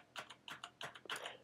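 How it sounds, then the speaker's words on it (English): Rapid typing on a noisy mechanical keyboard with loud clicky switches belonging to an HP Omen Obelisk gaming PC setup, four quick bursts of keystrokes heard up close with no talking. "Nice, noisy mechanical keyboard."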